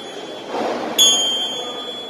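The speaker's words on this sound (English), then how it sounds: "this is the meditation bell. So it's like this." A single clear bell tone rings out and sustains, fading slowly over a quiet background.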